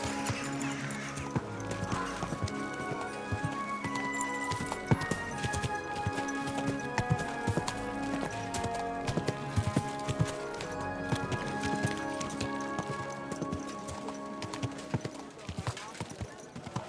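Horse hooves clip-clop steadily in the medieval video game Kingdom Come: Deliverance II, an even walking rhythm that runs throughout beneath a voice and background music.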